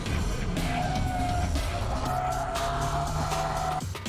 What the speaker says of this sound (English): Keiichi Tsuchiya drifts using 6 different drift techniques.